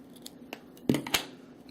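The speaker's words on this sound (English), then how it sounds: "Just going to cut that little bit of end off so it's easier to slot." A few small close snips of cutters trimming a wire end while building a Fishbone XS RDA, sharp isolated clicks with a crisp cut near the middle, heard alone in a quiet room.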